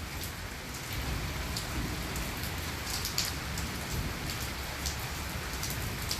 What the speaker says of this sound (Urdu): اب بہت ہی تیز بارش,